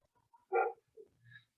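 A single close dog bark, followed by a couple of fainter, softer yelps or whines.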